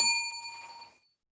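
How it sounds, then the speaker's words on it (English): A timekeeper's bell at a student English speech contest, struck once, giving a single bright ding that rings out and fades away within about a second. "the timekeeper will ring the bell once like this"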